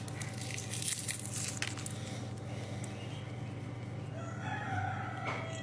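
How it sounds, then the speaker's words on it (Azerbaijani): A rooster crows in a rural village yard, its call rising over steady background noise and low hum, fairly close and unaccompanied by speech. "xoruzdur."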